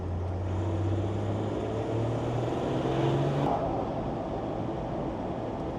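A Land Rover Defender fitted with a Mahker M57 engine and Puma gearbox runs hard on a dyno, its deep engine drone climbing steadily in pitch under load, then easing off near the end.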